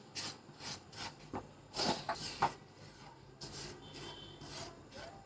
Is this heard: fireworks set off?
no